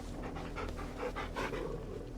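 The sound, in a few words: dog panting in video game Final Fantasy XVI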